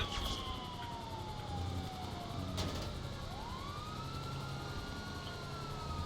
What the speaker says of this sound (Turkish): Polis aracını aldık kaçıyoruz.